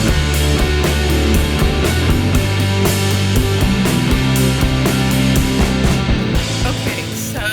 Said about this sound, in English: There are a few constructions going on.